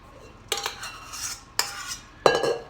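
A spoon scrapes an egg mixture around a dish in three distinct bursts, clinking and rasping against the sides at close range, with quiet pauses between.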